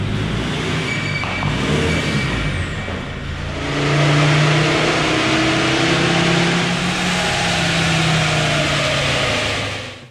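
A Ford Ranger engine on a dyno idles briefly with a low rumble, then revs up into a louder, sustained mid-pitched roar that holds for several seconds before easing off, with no talking.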